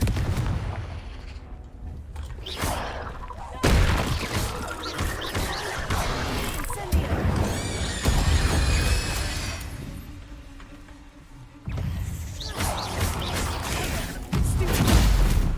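Blasting Confringo spells going off in Hogwarts Legacy, a dense run of loud booming bursts and crashes that repeat through the scene, with sharp impacts layered over a rumbling game soundscape.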